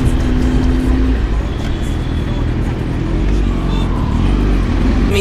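A BMW S1000RR motorcycle with a loud SC exhaust ridden through traffic in Gurgaon gives a continuous loud, close engine roar mixed with heavy wind rush for the whole stretch.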